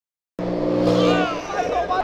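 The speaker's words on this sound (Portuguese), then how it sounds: "Do nada uma diabo passando aqui, acelerando tudão, velho." A Lamborghini Diablo supercar bursts into hearing on a São Paulo street, accelerating hard past at close range with a loud, rising engine roar that then fades slightly, as people react in the background.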